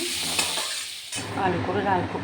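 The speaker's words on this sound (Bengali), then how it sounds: "আলুগুলো লাল করে ভেজে নেব" Potatoes sizzle in hot oil, a loud, close crackling hiss that briefly eases, then surges back with spattering and stirring, no voices present.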